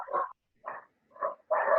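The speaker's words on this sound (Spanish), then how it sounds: "Hay un perrito que está jugando." A small dog barks while playing, four short yappy barks spaced about half a second apart, close by and otherwise quiet.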